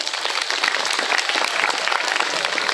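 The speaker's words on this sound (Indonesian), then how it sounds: "tepuk tangan" An audience of madrasah students and guests claps at a school sharing session, giving dense, even applause that stays full and loud throughout, with no talking over it.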